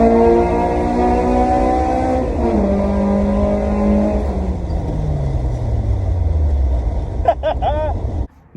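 A Honda RSX DC5 engine revs hard, its pitch climbing steadily into VTEC with a loud, rising howl up close, then the note drops away as the throttle closes near the end.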